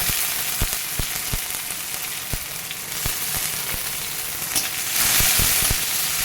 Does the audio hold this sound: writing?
no